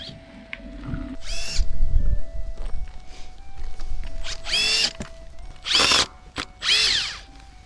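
A power drill whirs in several short bursts during outdoor work building a gate at a mountain entrance, with quiet handling noises and footsteps between the runs.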